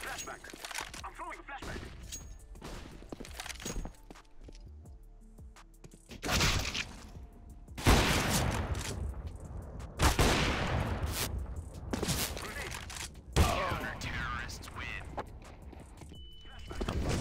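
Rapid gunfire bursts in Counter-Strike competitive matchmaking, several loud overlapping volleys and single cracks spread across the stretch, with a player's voice and game sounds between them.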